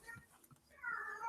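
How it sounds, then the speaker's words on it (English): A cat gives a short, faint meow in a room, a single rising cry near the end, following a few soft indistinct sounds. "Is that cat under your foot?"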